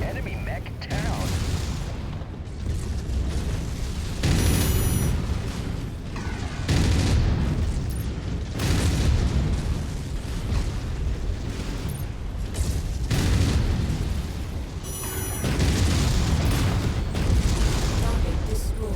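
A destroyed mech exploding in MechWarrior 5, heavy booms and rumbling blasts repeating over a dense, loud combat soundscape, with a voice talking.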